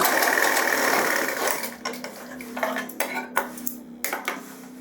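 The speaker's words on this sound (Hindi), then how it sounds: "बैक को खींच के ये आप सिलाई लगा लीजिए।" A sewing machine runs close by, stitching the back seam of a pair of trousers during a tailoring alteration. A steady mechanical whir gives way to a run of sharp, irregular clicks and knocks as the fabric is pulled through.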